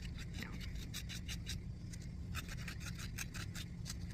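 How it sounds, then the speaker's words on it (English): Sanding around the drilled hole of a soapstone star necklace pendant produces quick, rhythmic raspy strokes that repeat steadily and up close, with no talking. "I'm sanding around the hole to remove those pencil lines"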